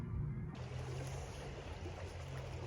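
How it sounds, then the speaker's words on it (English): Steady broadband rushing of flowing water, close and continuous, with a low rumble underneath and no voices. "Now we get to hear water."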